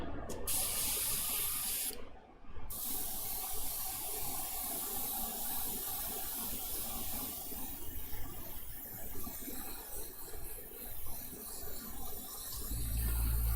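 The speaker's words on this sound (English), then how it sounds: "Now we're going to varnish our guy." Varnish sprayed from an aerosol onto a painted miniature figure hisses in long, steady bursts with a short pause near the start, close and continuous.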